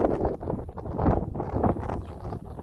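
Cool mountain wind on limestone Mount Kilang buffets the microphone in strong, uneven gusts, a loud rumbling roar that swells and dips throughout with no voices.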